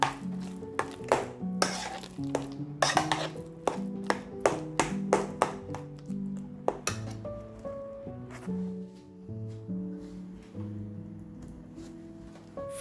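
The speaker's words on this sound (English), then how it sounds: "Mix everything well." A utensil stirring and mixing ingredients with dill in a bowl, giving a steady run of clinks and taps on the bowl with soft squishy mixing in between, over light background music.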